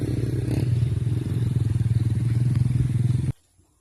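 A motorcycle crossing on a rural farm, its engine putting with a steady rapid throb and clattering close by, fairly loud throughout before cutting off abruptly near the end.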